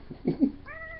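A cat meows a few times in quick succession, close and clear, followed by a steadier, drawn-out tonal cry at the end.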